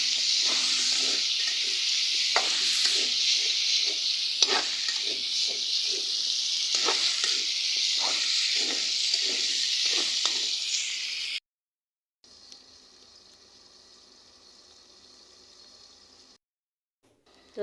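Green bananas fry in a spiced curry base in a home kitchen pan, an intense close sizzle and hiss with intermittent stirring scrapes, then a sudden cut to a quieter, fainter sizzle after a brief gap.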